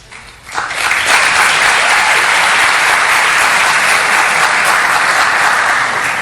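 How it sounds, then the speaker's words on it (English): Loud, dense audience applause at a live debate breaks out abruptly after a brief quiet moment and holds steady throughout, close and full. "By the way, guaranteed applause line."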